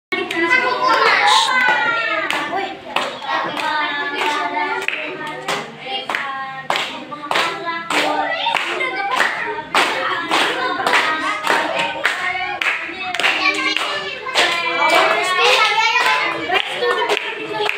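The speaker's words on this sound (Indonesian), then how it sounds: "Oke, tepuk tangan." Children clap their hands in quick, loud bursts of overlapping claps during a hopscotch game, with kids chattering and shouting between the rounds.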